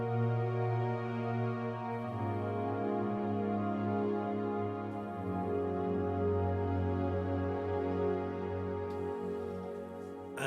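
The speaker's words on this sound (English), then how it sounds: "On the Deepmind 12, that's taking over strings duty." Lush synthesized strings from a Deepmind 12 play slow, sustained chords that shift every few seconds, smooth and moderately soft with no voices.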